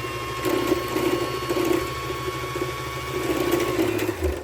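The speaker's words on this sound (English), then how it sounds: "I can just clip it there, and now wind the bobbin" A mechanical sewing machine winds thread onto a bobbin, whirring with a rapid ratcheting, gear-driven rhythm at close range that pulses unevenly before winding down at the end.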